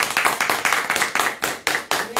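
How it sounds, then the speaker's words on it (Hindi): Lively clapping from a crowd at a felicitation event at a party headquarters in Jammu, dense and steady throughout with rhythmic bursts, fairly close and alone without talk. "जोरदार तालियों से"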